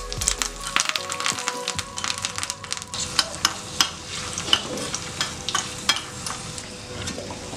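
Spices and buttermilk chillies fry in hot oil for a temple-style sambar tempering, a steady sizzle with repeated stirring scrapes and clinks of a spoon against the pan.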